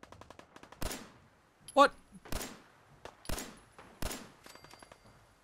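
Fallout 4 gunfire sounds out as a handful of sharp, spaced bursts over about five seconds, moderately loud. A brief voice speaks between the shots.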